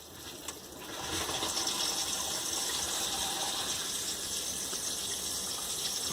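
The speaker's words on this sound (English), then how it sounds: "water valve fully open and it's not leaking anymore" Water rushes steadily through a GE GX1S01R under-sink water filter as the valve is opened, a close, continuous hiss and gush that swells after the first second and holds level.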